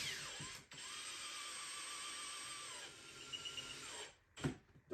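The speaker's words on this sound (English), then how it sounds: "And then screw those in." A power driver whirs steadily for about four seconds as screws are driven into the base of a Smart Caddy, then stops, followed by a few clunks of handling.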